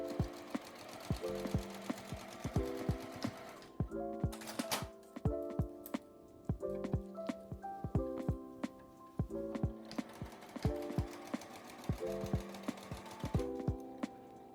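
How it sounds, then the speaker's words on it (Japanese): Sewing machine stitching scrap fabric for a small drawstring keychain pouch, a rapid mechanical chatter in repeated short runs with brief pauses between them, close and clear. "縫い目のところから下まで縫います。"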